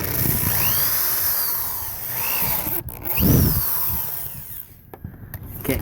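A drill bores into a plastic bucket with a whirring, grinding buzz that swells and drops, broken by short pauses and a few faint knocks.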